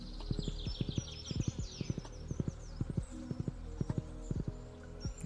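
Hooves clip-clop in a steady walking rhythm from a horse in the Stardew Valley farming game, close and fairly loud over game ambience.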